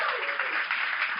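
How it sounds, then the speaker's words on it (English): Live audience at a podcast taping in Melbourne applauds panelist Jessie McCrone, a dense, steady wash of many hands clapping that holds at an even level for about a second. "Give a round of applause for Jessie."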